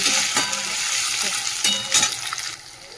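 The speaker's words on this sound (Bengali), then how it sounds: "এই তো পেঁয়াজ লাল করে ভাজা হয়ে এসছে। এর মধ্যে অল্প একটু ক্যাপসিকামও দিয়ে দিলাম" Chopped onions, already browned, sizzle in a pan with a little capsicum for a thin papaya curry. A loud, close frying hiss is broken by several sharp stirring scrapes and clacks of a spatula.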